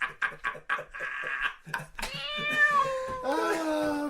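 Cats meowing close up, a run of quick short mews followed by long drawn-out yowls and wailing caterwauls, loud and alone without talk over them.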